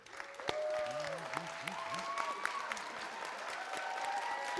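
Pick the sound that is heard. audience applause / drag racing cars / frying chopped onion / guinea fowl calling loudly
audience applause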